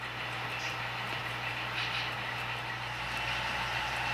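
A model train runs steadily on a layout helix, giving a continuous, even rumble with a low hum at moderate distance and no pauses.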